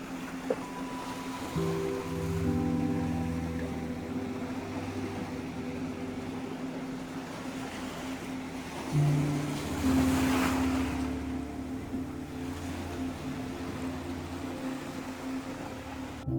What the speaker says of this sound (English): Looking at the waves, bro. Letting the ocean take you.